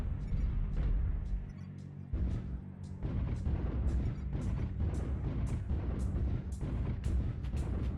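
Repeated booming airstrike explosions and heavy impacts in a mech combat video game, dense and loud, one blast after another for the whole stretch with rumbling low end throughout.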